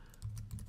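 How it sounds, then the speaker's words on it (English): Quick, light clicks of a computer keyboard as a web address is typed, a short close burst of keystrokes, faint and with no talking. "Let's type it in."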